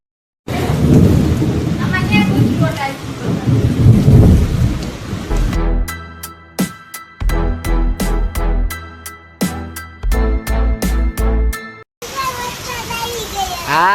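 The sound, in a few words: heavy rain with thunder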